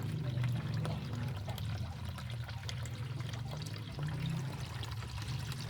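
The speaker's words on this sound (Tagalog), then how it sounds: "Lagyan na natin ng tubig." Water is poured into a turtle's container, giving a soft, continuous trickling and splashing over a low background hum, quiet and close, with no speech.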